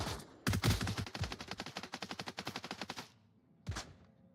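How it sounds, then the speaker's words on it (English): Gunfire crackles in the VR shooter Onward: a rapid automatic burst of many evenly spaced shots, followed after a short pause by one more single shot, all fairly close and loud. "That gunshot was also pretty close."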